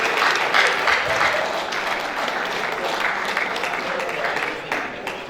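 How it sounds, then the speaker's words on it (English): Audience applause at a national mental health act sensitization workshop, steady dense clapping from a crowd that holds strong for about five seconds and tapers slightly at the end. "Celebrate him, celebrate him, celebrate him."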